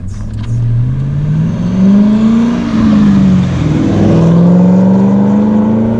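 A 2007 Cadillac CTS-V's engine idles, then revs and pulls away as the clutch engages early, its pitch rising and dipping as it gains speed. Close and steady, with no voices.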